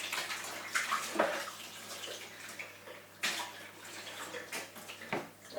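Water poured into a bowl of pie pastry mix for a chuck and mushroom pie, a soft splashing trickle with a few louder spurts, close by, alone.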